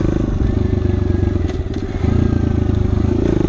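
Motorcycle engine held at steady high revs in second gear during a wheelie on an open road, a loud, continuous close-up drone with a brief dip midway.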